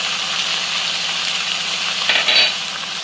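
Ginger garlic paste fries steadily in a pan with salt, crushed red chili and turmeric, giving a continuous close sizzle and crackle that swells briefly near the end, with no talking.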